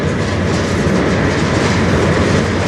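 A long CN freight train rolls past close by in a loud, continuous rumble, with rhythmic wheel clatter over rail joints and no voices.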